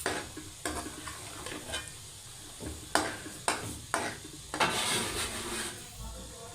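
Eggs and onions frying together for an egg and onion curry, a steady sizzle punctuated by repeated scraping and clattering strokes of a spoon stirring in the pan, close and with no talking.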